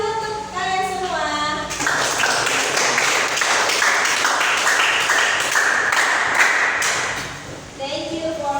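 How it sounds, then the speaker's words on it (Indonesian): Classroom applause from a group of students swells into steady clapping for several seconds, then fades as a teacher's speech resumes at either end. "Tepuk tangan dulu untuk kalian semua."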